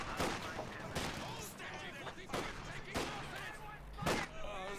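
Scattered bursts of gunfire and explosive thumps from a Company of Heroes 2 battle, with an MG42 machine gun facing an M20 armoured car, sound under continuous commentary, loud impacts recurring every second or so.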